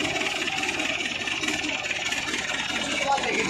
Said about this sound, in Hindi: ये देखो भाई हो गया ट्रैक्टर स्टार्ट